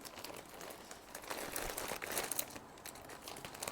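A gift package is opened by hand with a knife, giving close, continuous crinkling and rustling of wrapping and packing material at a low level, with no speech.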